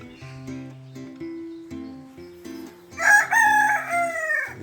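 A rooster crows loudly near the end, a long drawn-out call over hens clucking and other fowl calls in a forest garden.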